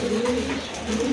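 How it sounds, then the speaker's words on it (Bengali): A pair of large exhibition pigeons coo close by, a soft continuous throaty murmur with no other sounds. "বিগ সাইজের এক জোড়া এক্সিবিশন কবুতর"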